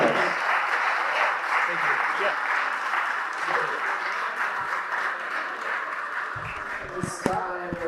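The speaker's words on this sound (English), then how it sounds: "Let's give Bill a big round of applause." A wedding reception crowd applauds steadily for a speech-giver, a dense sustained wash of clapping that fades near the end as voices and a microphone bump break in.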